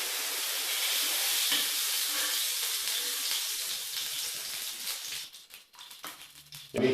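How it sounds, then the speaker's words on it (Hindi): About 200 ml of cooking oil poured into a pan for chicken korma, a bright hissing sizzle that runs steadily before breaking into sputtering crackles and a brief clatter near the end, close by with no talk. "सबसे पहले हम इसमें 200 मिली ऑयल डाल देंगे।"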